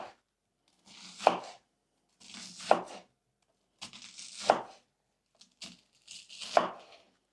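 A knife chopping an onion into round rings on a board, five separate cutting strokes at roughly even intervals, each ending in a sharp thud, close and clear with no talking.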